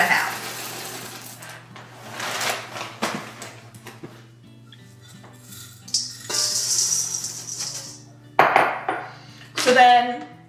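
Chocolate Cheerios are scooped and poured into a bowl for trail mix. Small pieces rattle and clink in several bursts, with quieter pauses and some handling noise between them.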